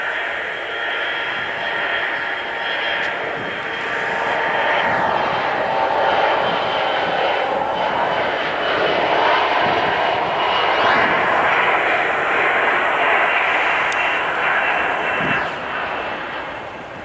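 A fixed-wing airliner passes at Nashville International Airport, its engine roar swelling to a loud, sustained rush and then easing away over several seconds.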